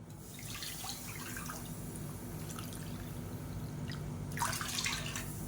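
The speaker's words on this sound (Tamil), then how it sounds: "1 கப்புக்கு நல்லா 2 கப் அளவுக்கு தண்ணி சேர்த்துக்கலாம்" Water pours steadily into a pot, a soft continuous splashing that swells slightly near the end.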